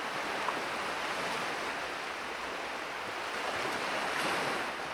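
Ocean waves roar against an island shore in a dense, continuous wash of surf with steady wind noise, loud and unbroken for about five seconds.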